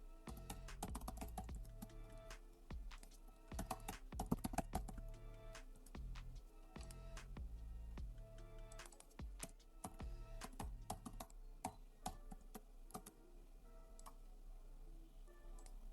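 Rapid, irregular key clicks from a password being typed on a computer keyboard, close and fairly soft, with short pauses between bursts and no talk.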